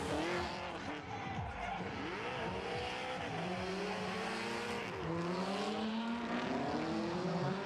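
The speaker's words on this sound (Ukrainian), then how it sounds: "А есть старт. Вот как раз Никифоров и выезжает." An 800-horsepower drift car launches its run at a Ukrainian drift championship, engine screaming through rising revs while tires squeal continuously, heard from a moderate distance.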